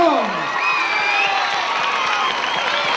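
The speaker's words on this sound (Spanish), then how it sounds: "¡Un aplauso para el ganador!" A dense, loud crowd roar of cheering and whoops, with whistle-like tones and scattered clapping, greeting the winner of a freestyle hip hop dance battle.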